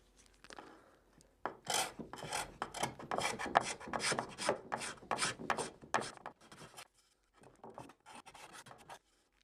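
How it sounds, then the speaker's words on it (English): Rhythmic scraping strokes of a hand scraper across a wooden chair, a fast series of rasping passes up close, pausing briefly before a few more strokes. "A scraper will make things perfectly level."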